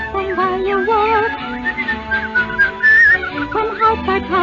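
Bright, close whistling of a cheerful tune carries a lilting melody with steady phrasing over soft musical accompaniment in an old radio drama of Snow White and the Seven Dwarfs.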